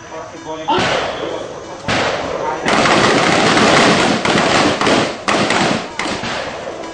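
Rapid, loud gunfire at a shooting range, with bursts of overlapping shots and cracks following one another over several seconds as an instructor calls out directions.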